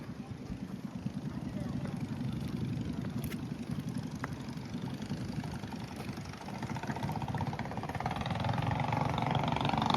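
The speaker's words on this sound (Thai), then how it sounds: "เสียงที่ได้ยินอยู่นะครับก็จะเป็นเสียงเรือนะครับที่ว่า นำนักท่องเที่ยวไปล่อง ชมวิวบรรยากาศ ของทะเลน้อยนะครับ" A tourist boat's engine drones steadily on Thale Noi lake, a continuous low rumble running the whole time and swelling slightly toward the end, with faint outdoor background.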